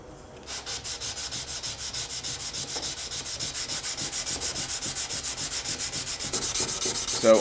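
Knife blade being hand sanded with sandpaper on a block, a steady rhythmic rasping of back-and-forth strokes, close and fairly quiet, with no talking.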